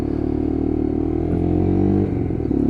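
A Lexmoto LXR 125cc Euro 5 motorcycle engine drones loudly and steadily while riding, a close, continuous hum with a slight rise in pitch midway and no talking.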